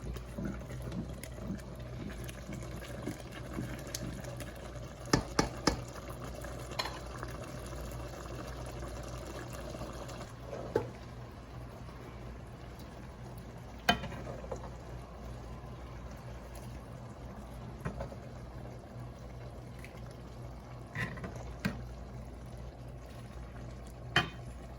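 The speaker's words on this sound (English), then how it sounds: "You have to stir it all the time." Moghrabieh, Lebanese couscous, is stirred in a pot, giving a low, steady bubbling and sizzling bed with scattered soft scrapes and knocks of the spoon. The cooking is quiet and there is no talk.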